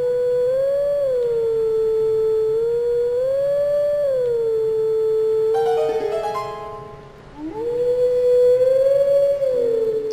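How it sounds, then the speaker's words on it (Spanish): A wolf howls a sustained, wavering melody in Zelda: Twilight Princess HD, the long tonal notes rising and falling in a steady tune with a brief pause before the howling resumes, loud and close. "no se reconoce por el aullido, pero es la canción clásica de toda la vida."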